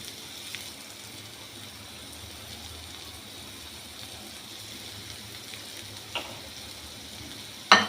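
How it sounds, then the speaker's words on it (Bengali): A pan of ground spices (kasuri methi, turmeric, Kashmiri chili powder, cumin and coriander powder) sizzles steadily over lowered gas heat as a little water is added, a soft continuous hiss with faint clinks and no talking. "গ্যাসটা কমিয়ে দিলাম অল্প কমিয়ে এই মশলার সাথে একটুখানি জল দিলাম মশলাটাকে তাল হওয়ার জন্য"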